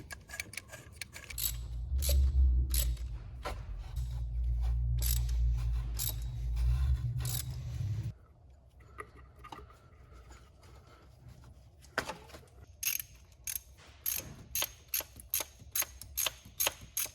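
A ratchet tightens the bolts on the thermostat flange of an Audi S3. A low hum runs first, then sharp, separate ratcheting clicks come in short irregular bursts, close by, with quiet gaps between them.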